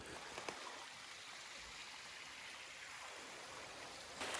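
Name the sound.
creek flowing on Western Uplands trail, Algonquin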